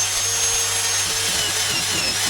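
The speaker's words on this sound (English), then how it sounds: "But we've got Maggie the drill set up here. Start cutting into this" A power drill gives a steady, high-pitched whine throughout, close and loud, with a constant grinding hiss as it cuts into material for a boat anchor roller; no talking.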